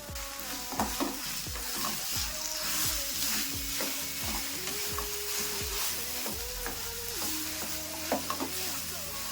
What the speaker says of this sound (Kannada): ಒಗ್ಗರಣೆ ಜೊತೆ ಹೊಂದ್ಕೊಳ್ಳೋಂಗೆ ಆಲೂಗಡ್ಡೆ ಚೆನ್ನಾಗಿ ಮಿಕ್ಸ್ ಮಾಡ್ಕೋಬೇಕು